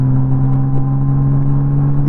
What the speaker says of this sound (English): the only thing that you hear in the background is my bike